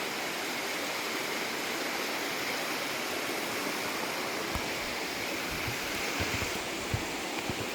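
Upper Copper Creek Falls on the Lewis River trail, a steady broadband rush of falling water, constant and fairly close with no voices.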